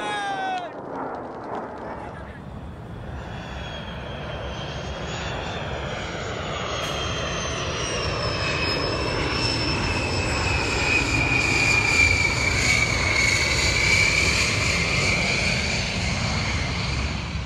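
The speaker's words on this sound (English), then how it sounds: "The first aircraft we're going to talk about today is the A-10 Thunderbird." An A-10 Thunderbolt military jet passes overhead, its turbofan roar swelling from a distance into a loud, sustained whine with rising tonal pitch that dominates throughout.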